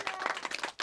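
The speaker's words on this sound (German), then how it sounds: "wenn es euch gefallen hat, dann klatscht noch einmal in die Hände" Children in an audience clap their hands after a story performance, a short burst of dense, lively applause with a brief dip before it swells again.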